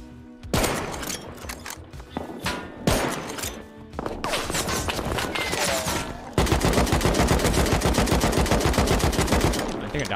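Gunfire in a multiplayer survival game raid: loud single shots early, then sustained rapid automatic fire rattling close by, with players talking over it.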